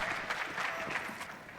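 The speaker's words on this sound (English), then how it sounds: "Big support for the home crowd here in Arlington." A home crowd applauds during a Counter-Strike esports finals match in Arlington: a steady, fairly distant wash of clapping and crowd noise with rhythmic swells, filling the short stretch without a break.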